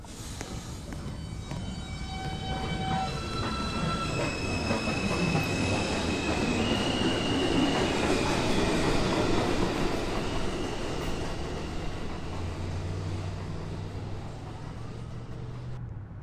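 A Manhattan-bound 2 subway train pulls out of Beverly Road station during the evening rush, its loud rumble and clattering wheels filling the platform with high squeals and whining tones as it accelerates away.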